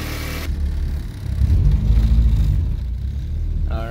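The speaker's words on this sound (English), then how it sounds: "And we're going to go on a test drive." A rear-wheel-drive K-swapped Mitsubishi Starion on a test drive: a low engine rumble that swells as it accelerates, then settles into a steadier drone, heard from inside the car.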